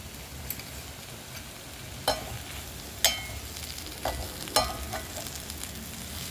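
Potatoes frying in a pan for a spiced potato fry, a low continuous sizzle with a few distinct spatula scrapes and knocks as they are stirred, close by and free of speech.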